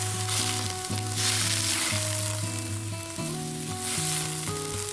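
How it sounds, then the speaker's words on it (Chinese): Tofu stir-frying in a hot oiled wok with shallots and ginger, a loud steady sizzle and crackle with stirring scrapes and a faint tonal hum underneath. "加入干葱头和姜片，翻炒出香味，倒入沥干水分的豆腐"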